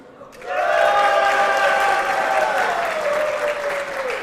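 A live StarCraft 2 esports crowd breaks into applause and cheering, rising sharply after a brief quiet and holding loud and dense, with whistles and shouts on top before slowly easing.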